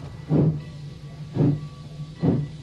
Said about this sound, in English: Nicholson and Thompson headed for the hills on engine 702